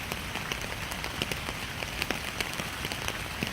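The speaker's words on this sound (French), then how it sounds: "Ah, ça fait tellement du bien la pluie." Steady rain falls close by, a dense continuous patter with individual drops ticking sharply on a hard surface throughout, with no voices.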